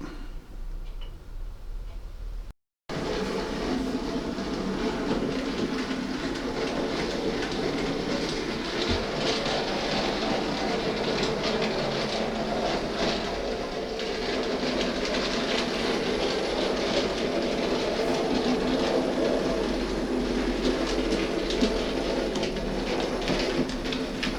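A Hornby R3869 Peckett W4 model locomotive in Dowlais Ironworks livery runs on its track with a faulty motor, giving a steady close whirring hum with light rhythmic clicking of wheels over rail joints after a brief cut near the start.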